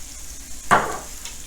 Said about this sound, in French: je vais les retourner pour qu'elles soient bien saisies par la partie haute du grill